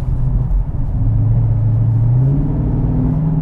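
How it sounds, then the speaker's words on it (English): A 2021 Dodge Charger Scat Pack accelerates with a deep, loud exhaust rumble, its pitch climbing steadily as the revs build, close and alone without talk. "I would just drive this car just to listen to the exhaust."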